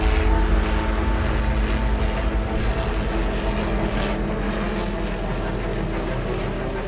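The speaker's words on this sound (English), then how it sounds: "The helicopter circles the elephant herd, rounding them into small groups." Helicopter flying low over an elephant herd during a wildlife relocation, a loud, steady rotor-and-engine drone filling the whole stretch with no break.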